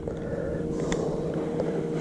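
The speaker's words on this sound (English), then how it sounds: "What's the trolling motor's on about half speed" A boat's electric trolling motor runs at about half speed on a lake, giving a steady low hum and whir with faint water wash, close and continuous.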